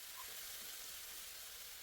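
Marinated eggplant sizzles steadily in a generous amount of hot oil, a continuous close frying hiss with no talk over it.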